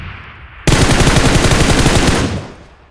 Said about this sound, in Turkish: Tamam silah sesleri okey.